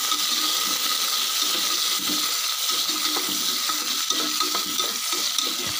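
Curry leaves frying in oil in a pan for tomato chutney: a steady, close sizzle with crackles throughout and a few soft stirring scrapes, no voices.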